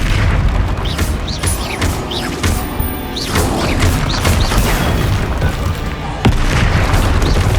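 Confringo fire spell blasts in the wizarding game Hogwarts Legacy, a loud dense boom with crackling debris and repeated impacts layered over continuous combat noise, a fresh burst striking near the end.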